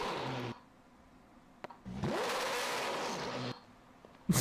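A car engine revs hard in a loud rising burst between quieter idling stretches, with a choppy, whirring character likened to an attack helicopter.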